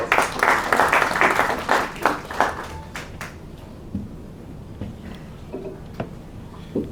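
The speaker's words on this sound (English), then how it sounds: "Just give me a round of applause." Applause at a ceremony marking the reopening of a KwaZulu-Natal forensic lab, with a burst of clapping from a small audience that fades quickly into scattered claps and room noise.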